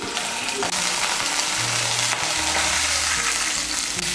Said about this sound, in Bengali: মিশিয়ে নিয়ে মশলাটাকে একটু ভালো করে কষিয়ে নেব।